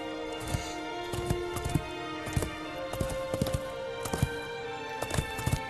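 A limping horse walks in Shadow of the Colossus, its hooves clip-clopping in an uneven, halting rhythm of sharp knocks over a steady droning game background.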